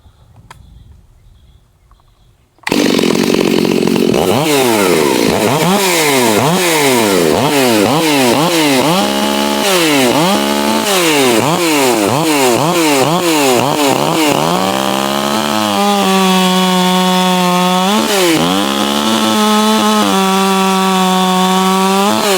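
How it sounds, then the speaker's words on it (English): A ported Stihl MS361 59cc chainsaw sits silent before roaring to life, then revs rhythmically as it bites into wood and settles into a loud, sustained cutting whine, close and dominant throughout. "we got a Stihl MS361. This saw has a ported cylinder head. It's got a ported muffler."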